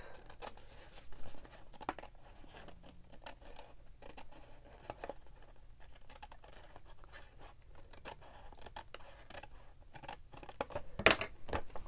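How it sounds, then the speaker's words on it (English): Scissors snip and trim pieces of paper ephemera in a series of short, crisp cuts with small rustles of paper between them, close and quiet, ending with a sharper louder snip. "And I will trim this side off."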